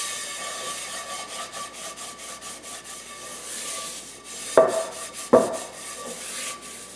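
Scrubbing stuck egg off a cast iron skillet gives a soft, steady rubbing scrape in circular strokes, with two sharper knocks near the end.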